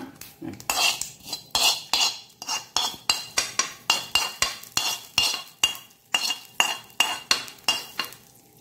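Beetroot chutney being scraped out of a pan into another vessel with a metal spoon: a steady run of rhythmic clinks and scrapes of metal on metal, close and clear, with no talking.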